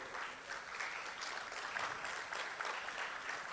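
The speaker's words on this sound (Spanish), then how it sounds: "Por favor, un fuerte aplauso" Audience applause at a medical conference session on regenerative medicine law in Mexico, a fairly faint, even patter of many hands clapping from a distance, continuous throughout.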